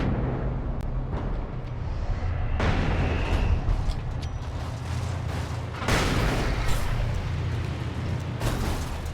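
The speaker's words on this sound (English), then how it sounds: "Flashbangs are probably good." A flashbang grenade goes off in the video game Alan Wake Remastered, giving a dense, sustained rumbling blast with several surging bursts of noise, loud and close, and no talk over it.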